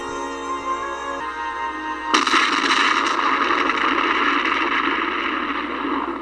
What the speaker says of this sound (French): on recense énormément d'explosions de téléphériques